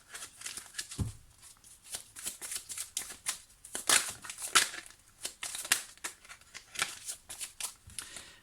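Tarot cards being shuffled, a busy run of papery riffles and slaps at moderate level, continuous with brief pauses and no talk.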